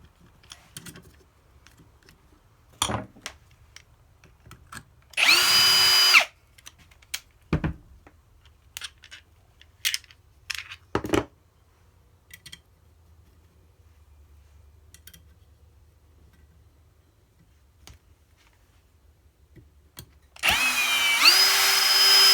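A power drill drives screws into the plastic parts of a Jeep Wrangler Class 2 RC rock crawler build. Two short whirring bursts stand out near and loud, separated by quiet clicks and handling noises.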